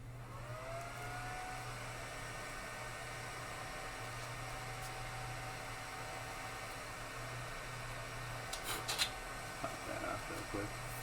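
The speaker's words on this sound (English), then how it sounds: "Let me turn on the printer for you." Longer LK5 Pro 3D printer switched on, its fans spinning up and settling into a steady whirring hum with a constant low drone, then a few close clicks and handling knocks near the end.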